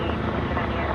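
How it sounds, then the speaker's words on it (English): A police helicopter hovering overhead during a May Day protest in downtown Los Angeles, a steady low rotor drone filling the short clip without a break. "I'm hearing a police helicopter, man."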